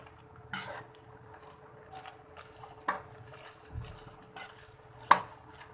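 A spoon scrapes and stirs bread halwa as it roasts in milk in a pan. Soft, sparse clinks and scrapes sound against the metal, with a few sharper knocks, close by, quiet, and with no talking.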